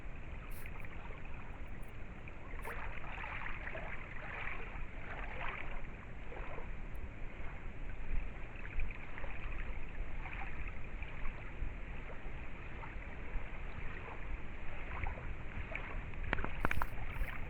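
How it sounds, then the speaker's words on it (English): Gentle, steady lake water lapping at a campground shore, a continuous soft wash close by with no voices, holding an even level throughout. "I just took some audio of the water"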